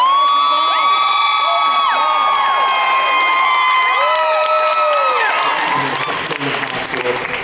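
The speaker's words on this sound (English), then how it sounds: "Big round of applause, ladies and gentlemen." A crowd at a 2015 charity radiothon applauds loudly, with cheers and high whoops rising over the clapping before it starts to taper off.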